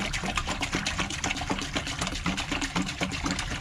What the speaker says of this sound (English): All we got to do is add the vinegar.